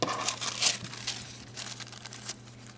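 A hard-to-shuffle tarot card deck being shuffled by hand close by, giving continuous papery rustling and crinkling with sharper flicks and snaps scattered throughout, over a faint steady low hum and no talking.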